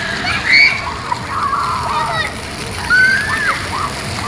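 Children splash and slosh water while playing in a fountain, with bursts of splatter over a steady wash of water and children's voices calling out now and then.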